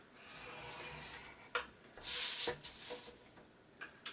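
A scoring tool drawn along cardstock at one-inch lines for a gift box, producing soft scraping rubs, a longer louder stroke in the middle and a few short scratches after, close and without speech.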